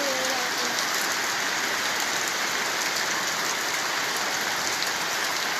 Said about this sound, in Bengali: দেশে অবস্থা তত ভালো না ভাই, বৃষ্টি হইতেছে।